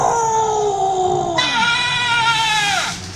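A man imitates a wolf howl with his voice, a long sustained wavering cry that glides downward, rises into a brighter held tone and then trails off, loud and close.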